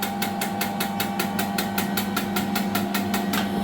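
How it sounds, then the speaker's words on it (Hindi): A diesel injector on a test rig fires under roughly 400 bar of pressure, giving a fast, even train of sharp clicks and bursts, about four per second, loud and close over a steady mechanical hum. "ये मेरा इंजेक्टर फायरिंग, इसकी फायरिंग शुरू हो गई।"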